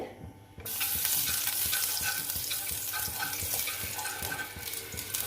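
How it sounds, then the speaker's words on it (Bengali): Cauliflower pieces fry in a little oil in a pan, a sizzle that starts abruptly after brief quiet and keeps going with scraping, stirring clatter. "দেখো এই কপিগুলো একটু ভেজে নেব।"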